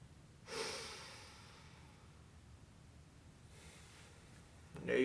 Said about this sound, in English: Now breathe in through both nostrils. And slow nose breathing.